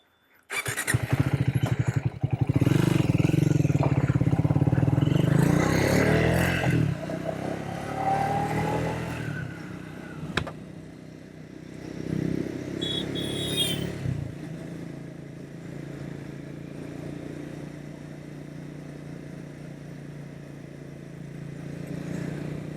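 A Triumph Speed 400 motorcycle climbing a steep, curving mountain hill, engine droning loudly and steadily up close at first, then easing back to a lower, fainter hum with brief squeals and clatter.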